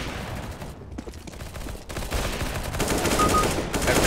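Gunfire in the CS:GO video game: sustained automatic shots crackle steadily throughout, loud and close, with brief gaps between bursts and the firing thickening toward the end.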